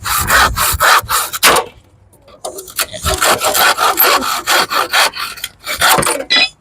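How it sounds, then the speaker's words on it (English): A handsaw cuts lumber outdoors, with rapid rhythmic rasping strokes close by, a short pause partway through, then another fast run of back-and-forth strokes. "Nothing like a little hand action here, you know. Handsaw."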